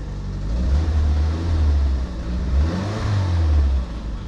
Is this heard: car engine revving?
yes